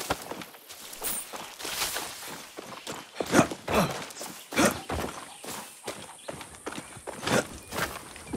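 Horse hooves in Far Cry 6 clop along in an uneven walking rhythm, the steps fairly close and moderately loud, with a soft snort or breath here and there.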